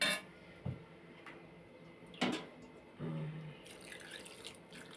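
Water is added to a pot of simmering chicken curry with bay leaves: a few faint splashes and short clinks, then a brief trickling pour against a quiet kitchen background.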